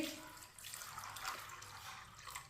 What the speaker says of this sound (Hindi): साथ में पानी डाल लेंगे।